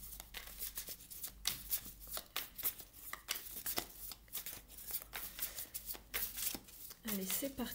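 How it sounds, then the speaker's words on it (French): Tarot cards shuffled and spread out on a surface: a rapid run of close, crisp riffling and flicking clicks, with a brief voice near the end. "je vais étaler les cartes"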